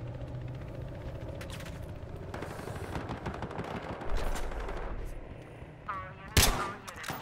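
Gunfire in the multiplayer shooter Battlefield Hardline, including a Remington 70 rifle, rings out as a steady wash of distant shots and battle noise, with a louder crack near the end.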